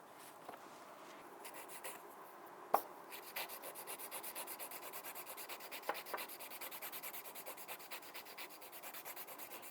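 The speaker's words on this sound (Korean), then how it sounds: "파일과 밑에 있는 이 밑살하고 같이 갈려도 괜찮아요" A nail file rasps across a short fingernail and the skin beneath it, trimming it down in quick repeated strokes that form a steady close scratching rhythm, with one sharp click near the start.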